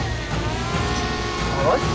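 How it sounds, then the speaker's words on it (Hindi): A camera drone flies overhead in a tense crime drama scene, giving off a steady droning whine with a constant low rumble underneath, fairly loud and continuous, with voices faintly present. "अबे तो ड्रोन कैमरा है, लगता है हमारा पीछा कर रहा है"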